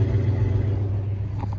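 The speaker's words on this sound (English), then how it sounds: "See his car driving away." A car drives off with a steady, loud low engine rumble that holds evenly and eases only slightly toward the end, with no voices.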